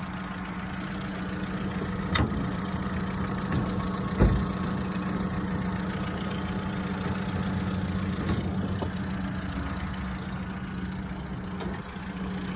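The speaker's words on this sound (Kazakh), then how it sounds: "Мотор жағы іштеп тұрады." A Daewoo Lanos car engine idles steadily with the hood open, a constant mid-pitched hum with a few sharp clicks and knocks over roughly twelve seconds.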